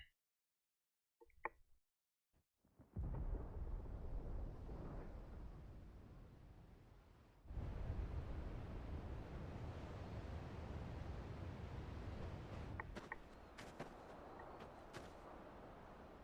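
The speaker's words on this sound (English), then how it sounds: "Sounds like thunder." Thunder in the Final Fantasy 16 video game rolls in as a long, heavy rumble after a few quiet seconds, then swells again in a second loud booming surge that trails off, with no talk.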